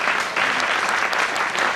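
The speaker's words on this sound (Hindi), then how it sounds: "एक बार उनके लिए भी जोरदार तालियां बजा दीजिए" Loud, continuous applause from a seminar audience at a ChampCash event in Delhi, many hands clapping in a dense, even burst with no voices over it.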